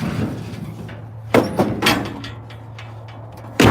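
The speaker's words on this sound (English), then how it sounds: "I gotta shut the door on the Ford feeder" The metal door of a farm feeder banging shut outdoors in the evening, a loud sharp clank followed by a few smaller rattles and then another hard bang.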